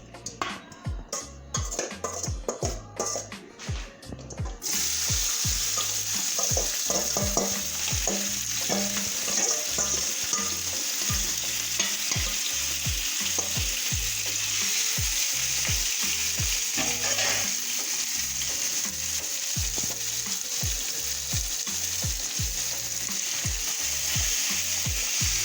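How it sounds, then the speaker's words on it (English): Seasoning fries in olive oil in a pan, a loud, steady sizzle that jumps up sharply after a quieter start with a few stirring scrapes, continuing evenly and alone. "this is the seasoning frying up."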